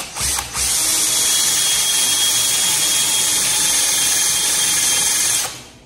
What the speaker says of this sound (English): I got a brand new sharp drill here, drill bit,